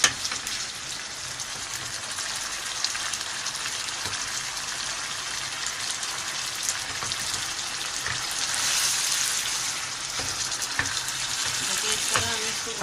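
Potato koftas frying in oil in a pan over a normal flame, a steady, fairly loud crackling sizzle running throughout with occasional small pops and spatters, no talk.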